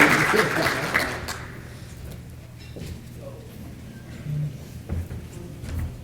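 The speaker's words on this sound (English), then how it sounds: "So real quick, let's give John a round of applause" An audience at an annual meeting's lunch program claps in a short burst of applause that fades after a second or two, followed by murmuring and scattered room noise.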